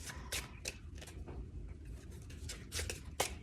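A deck of tarot cards riffled and shuffled by hand, soft, close papery flutters and snaps in short irregular bursts, quiet and alone.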